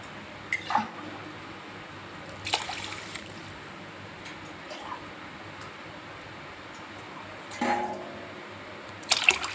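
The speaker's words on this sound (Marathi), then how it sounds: "पाणी ओतून झालेलं आहे" Water is poured over washed white rice in a container to soak, a faint, steady trickle broken by a few louder splashing bursts, quiet and close with no speech.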